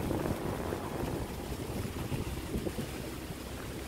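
Cool wind blows steadily outdoors over open rice fields, a loud continuous rushing roar buffeting the microphone with no pauses throughout.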